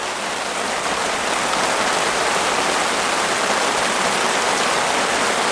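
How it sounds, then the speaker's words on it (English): Heavy rain pours during a thunderstorm at a boondocking campsite in a field in Allegheny National Forest, a steady dense hiss that stays loud and even throughout. "And I'm sure you could hear the rain."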